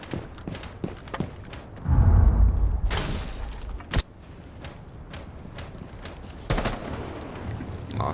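DMR rifle shots in a video game, a few sharp cracks spread across the stretch, one heavy burst near the start and a loud single report midway, over busy game background noise.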